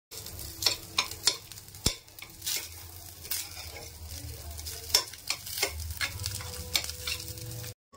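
Rice frying in a pan over a home stove, with steady sizzling broken by frequent sharp scrapes and clinks of a spoon stirring against the metal, close and fairly loud throughout.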